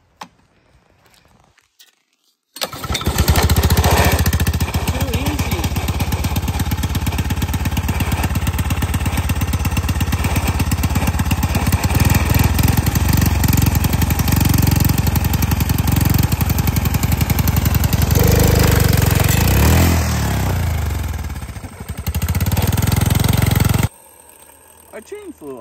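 A go-kart's small gasoline engine fires up after a short pause and runs loudly and continuously close by, a rough, buzzing idle with slight rhythmic variation, briefly dipping before surging again and then cutting off.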